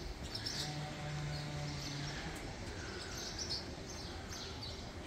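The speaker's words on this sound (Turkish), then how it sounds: "Bol bol kuş sesi." Faint bird chirps scattered over a steady outdoor background hiss in a small student dormitory garden in Famagusta, Cyprus, with a brief low hum early on.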